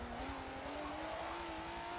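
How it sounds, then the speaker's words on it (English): A Honda NSX Challenge race car powers out of a corner, its torquey engine droning loudly with a pitch that climbs steadily as it accelerates. "the car's starting to break loose because the car is just really torquey"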